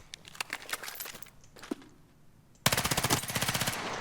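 An SMG in Battlefield 6, fired with recoil held under control: a few scattered shots at first, then a loud, sustained, tightly regular burst of rapid automatic fire.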